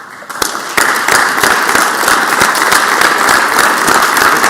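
Steady applause fills the Mississippi Senate chamber after a brief quieter start, with dense hand clapping from many people continuing loud and unbroken throughout.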